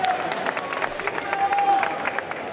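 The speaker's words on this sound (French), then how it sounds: "Sous vos applaudissements" Crowd at a cosplay costume contest claps and cheers for a World of Warcraft costume, steady dense applause throughout, with a faint whistle-like tone and voices mixed in.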